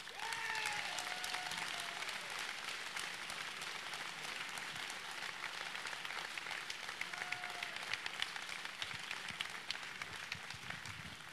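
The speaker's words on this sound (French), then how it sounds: "je vous demande d'applaudir très, très, très chaleureusement Elina Dumont." A political rally crowd in Rennes applauds warmly, a dense, sustained roar of clapping with brief faint voices and whistles near the start, steady and fairly close throughout.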